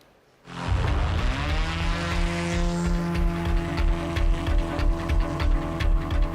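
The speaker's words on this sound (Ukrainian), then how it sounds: "І ми розкажемо вам про цей багатоцільовий БПЛА ПД-2" PD-2 multipurpose military drone, its engine kicking in abruptly and settling into a loud, close, steady propeller drone with a faint rhythmic pulsing throughout.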